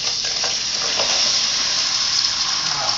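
Onions frying in a pot for carne guisada, a steady broad sizzle that holds close and even throughout, with faint stirring or clinking underneath.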